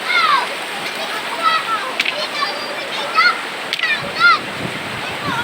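A strong river current rushes steadily in a broad, continuous wash with occasional splashes, while voices speak briefly over it.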